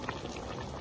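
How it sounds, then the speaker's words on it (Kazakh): Horse meat bubbles at a steady boil in a covered pot, a close, continuous rolling gurgle with no pauses, heard alone for under a second. "Мінекей қайнап жатыр"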